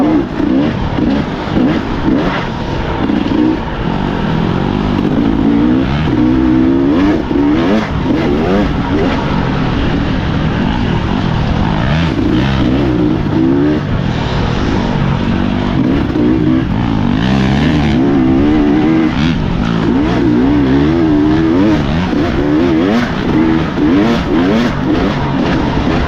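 A dirt bike rides Michigan single track through fall colors, its rear tire nearly new. The engine drones loudly and steadily throughout, rising and falling with the throttle, with faint voices now and then.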